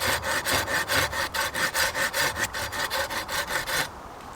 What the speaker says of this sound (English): I'm just making a small indentation into the piece of wood